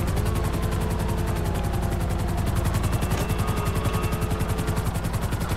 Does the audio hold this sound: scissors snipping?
no